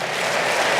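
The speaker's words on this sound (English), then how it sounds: "Don't applaud yet." Audience applause fills the hall during a talk about running a marathon with a grade 3 tear, a dense steady clapping from a large crowd, loud and close, with no speech over it.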